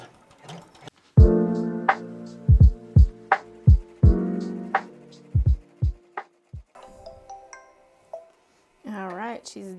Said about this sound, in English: let's get to stitching